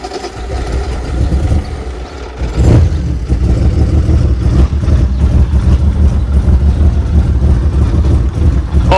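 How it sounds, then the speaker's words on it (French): A BMW 7 Series is cranked and fires up with a sudden burst, then settles into a steady, loud idle with a rough rumble, recorded close with wind buffeting. "Vas-y, essaye de démarrer."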